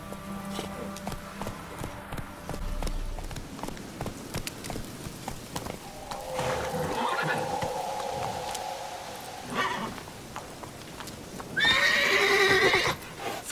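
Horse hooves clatter at a gallop and whinnies rise amid rain in The Witcher 3, with a clear neigh near the end, all set under game ambience and without speech.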